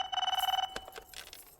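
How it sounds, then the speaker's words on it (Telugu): A telephone bell rings loudly in a short repeated burst, then stops, leaving faint room noise and a brief clatter as the phone is picked up. "ఫోన్ తీయాలిగా మాట్లాడాలంటేని"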